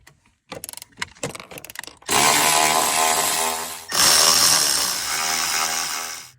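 Power tool working the strut bolts on a BMW 5 Series G30 during a front lowering spring install, several short ratcheting bursts followed by two long, loud, close whirring runs with a brief pause between.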